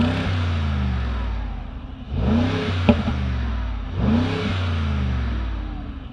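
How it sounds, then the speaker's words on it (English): 2025 Mercedes-AMG G63 V8 revved through its side exhaust pipes, heard from outside: a deep rumbling idle swells into two loud throttle blips with a crackle between them before settling back to a burbling idle. "Let's take a listen to those side pipes."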